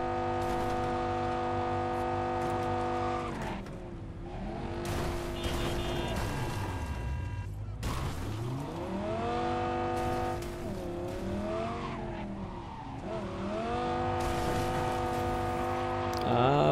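A car in Cyberpunk 2077 revs and shifts through gears with repeated engine swells and dips, with tire squeal and skidding, loud and continuous, with some faint talk underneath.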